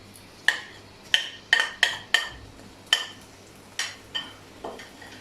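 Ginger garlic paste and cumin go into hot oil in a pan for chicken biryani, giving a string of sharp metallic clinks and scrapes, about nine distinct utensil hits against the pan over a faint background, with no talking.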